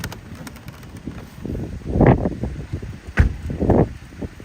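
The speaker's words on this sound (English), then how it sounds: "hopefully the wind is not going to be too big and you can still hear me" Gusty wind buffets a microphone outdoors near Stirling Bridge in Scotland, low rumbling bursts rising and falling with a few sharp swells, no voice over it.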